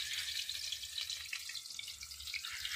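Onions drop into hot oil and fry with a bright, crackling sizzle that stays close and steady for a few seconds, with no voices over it.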